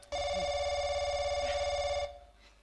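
A telephone rings with one sustained electronic tone lasting about two seconds, close and clear, then cuts off into quiet room sound.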